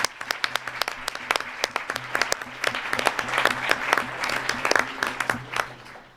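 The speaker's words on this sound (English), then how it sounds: "join me in a big round of applause for them." A crowd applauds with dense, sharp claps that swell and hold steady, then begin to thin out toward the end.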